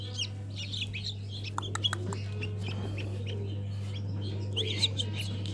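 Newly hatched chicks peep in a small incubator, with high, scattered cheeps over a steady low electrical hum from the unit.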